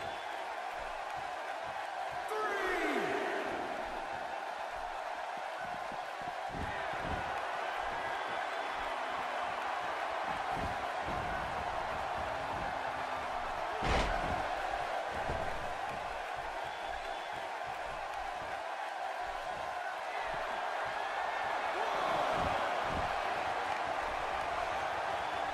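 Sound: loud wrestling crowd in Toronto

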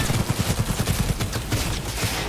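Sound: smart gun gunfire in the video game Cyberpunk 2077

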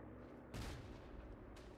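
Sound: mortar shells firing in the video game Verdun

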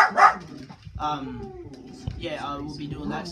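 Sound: dogs barking

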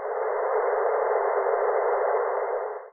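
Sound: wind tunnel test section noise without trailing-edge serrations

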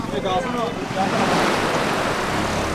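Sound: sea waves

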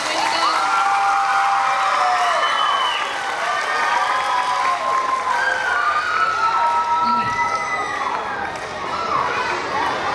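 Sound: children's applause and cheering

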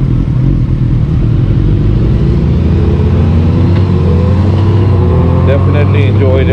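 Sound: 2020 Honda GoldWing Tour DCT motorcycle riding in sports mode

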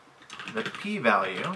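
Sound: typing on a computer keyboard

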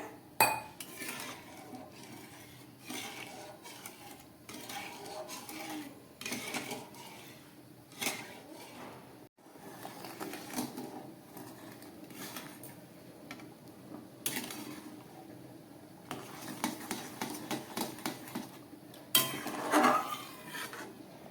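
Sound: stirring mung dal in a cooking pot

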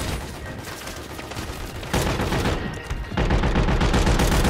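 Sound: gunfire in the video game Call of Duty

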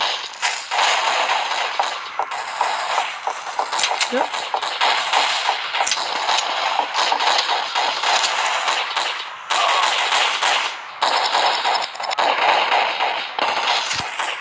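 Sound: gunfire in a video game

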